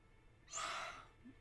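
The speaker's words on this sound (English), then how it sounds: "I had to yawn" A single, close, breathy yawn from a person, a soft rising then fading airy exhale lasting about half a second in an otherwise quiet room.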